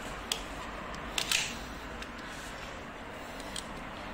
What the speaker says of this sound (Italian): ora è scarico, non c'è gas, ma è un accendino